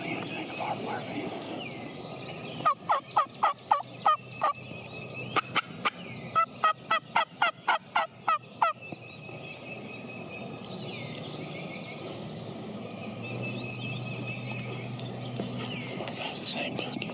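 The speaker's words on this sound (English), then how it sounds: "The same turkeys." Wild turkeys gobble during spring turkey season near a square panel fence on a wooded ridge: several rapid, rattling gobble bursts in quick succession, fairly distant, over quiet outdoor ambience with soft talk.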